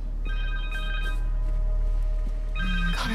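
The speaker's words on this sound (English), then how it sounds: "Phone!" A cell phone rings in the Marvel's Spider-Man 2 video game, a short electronic ringtone with steady tones that starts shortly after the clip begins and repeats, heard alone.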